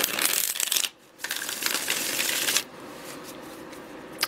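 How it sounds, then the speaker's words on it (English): A deck of tarot cards is shuffled up close in quick, riffling bursts of crisp papery rattling, broken by a brief pause and then a longer run that trails off. "One more shuffle, one more shuffle."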